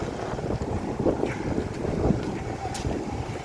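Steady wind blows outdoors among trees, a continuous broadband rush buffeting the microphone with gusty swells throughout.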